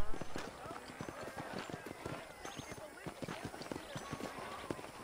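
Horse hooves clip-clop in a steady trotting rhythm in the Red Dead Redemption video game, a continuous patter of hoofbeats with soft background sound throughout.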